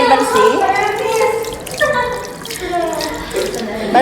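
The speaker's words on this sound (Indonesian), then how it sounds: "Bilas sampai bersih." Tap water runs steadily into a sink while hands are rinsed clean during a hand-washing routine before a head-to-toe examination, loud and close, with a voice speaking over the splashing.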